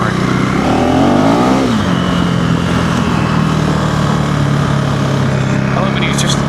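A Honda CRF300L dirt bike revs hard as its rear wheel spins on a loose gravel trail, engine note rising then settling into a steady drone, loud and close, with a rider's voice mixed in.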